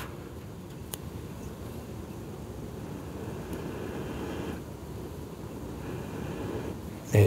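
Outdoor wind blowing steadily beside a small fire being started, a continuous rough rushing roar that stays fairly even throughout, with one brief sharp click and a slight gust swell at the end; no talking.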